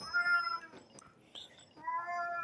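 A cat meows in the video game Marvel Snap, two clear, close meows with a short gap of clicks and game effects between them.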